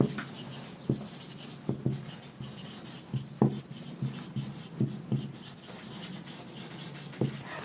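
Chalk or marker writing on a classroom board during a mathematics lecture: a run of scratchy strokes with sharp taps between pauses, close and fairly quiet, with no talking.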